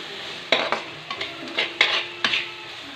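Pasta tossed with pasta masala and red chili powder is stirred in a pan: a spoon scrapes and clinks against the metal in irregular close strokes over a soft, steady sizzle, with no talking.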